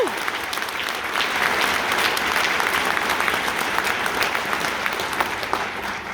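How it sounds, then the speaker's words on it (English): An audience applauds the directors at an honor band concert, a sustained, even roar of many hands clapping for several seconds without break. "Give the directors a round of applause."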